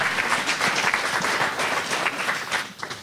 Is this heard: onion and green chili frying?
no